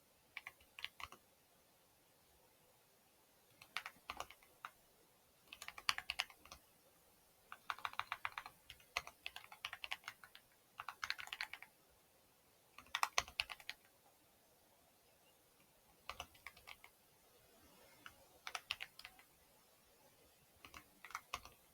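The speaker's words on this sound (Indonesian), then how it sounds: "Kita mulai mengetik programnya." Program code being typed on a computer keyboard: quiet bursts of clicky keystrokes in irregular clusters separated by short pauses, close and alone with no talking.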